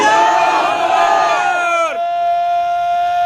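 Loud crowd at a religious gathering shouting a response to a slogan, a dense chorus of voices that swells and then cuts off near the two-second mark, leaving a sustained tonal hum.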